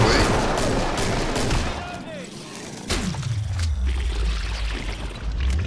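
Dense chain gun fire and rocket blasts from a Killing Floor match sound as a loud, continuous fusillade, with a sweeping whoosh and a heavy boom partway through.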